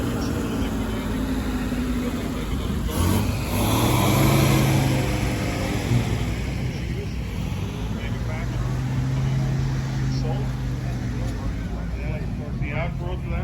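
Old 1930s cars move slowly in a traffic jam on the Hershey show field, a rumbling mix of nearby engines with wind buffeting the mic while people talk throughout.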